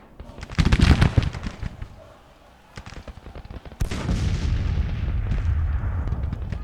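Battle gunfire and artillery in the Civil War strategy video game Grand Tactician: The Civil War, volleys of musketry crackling, then a heavy cannon boom followed by sustained rumbling fire, moderately distant.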